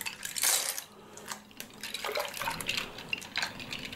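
Keyboard parts soak in hot, soapy water, giving a soft, continuous wash of sloshing, bubbling and light dripping, fairly faint and steady throughout with no voice.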